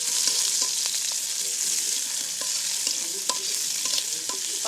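Chopped garlic, onion and green chili fry in oil, producing a loud, continuous bright sizzle close by, with occasional light scrapes of a stirring utensil.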